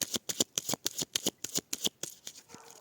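A deck of tarot cards is shuffled and cut in a series of about a dozen quick, crisp riffling bursts at a steady rhythm, close and fairly quiet, ending with a softer settling shuffle.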